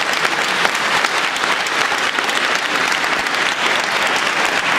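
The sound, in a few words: audience applauding at award ceremony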